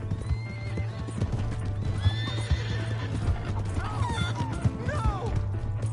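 A horse in Red Dead Redemption 2 gallops with rapid, steady hoofbeats while whinnying calls rise and fall repeatedly over the pounding rhythm, with occasional thuds.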